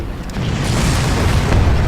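An explosion in the video game Far Cry: a dense, continuous rumbling blast that holds steady for about two seconds, loud and alone.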